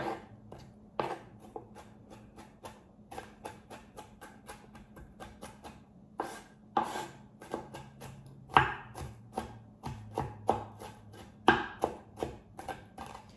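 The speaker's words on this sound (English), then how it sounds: "get a little more celery chopped up" A knife chops celery on a board in a quick series of sharp close taps that grow firmer toward the end, with no talking.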